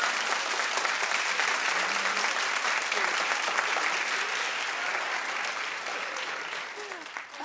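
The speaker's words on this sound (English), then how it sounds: "clap if you're with me" A studio audience claps steadily for several seconds, a dense, even applause that slowly tapers off.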